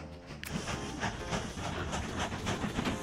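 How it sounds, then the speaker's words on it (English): A mail train runs in the Mashinky railway-building video game, a steady rumbling rail roll with rhythmic clacks at a moderate level. "The mail train."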